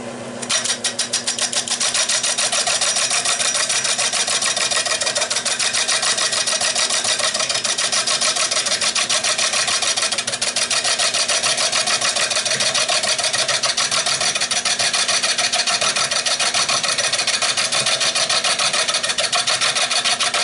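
Steady, continuous scraping and rasping of a tool trimming the outside edge of a spinning catalpa wood bowl on a lathe, loud and close, with a constant motor hum underneath.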